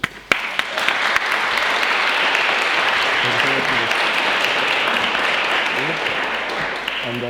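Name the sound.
audience applause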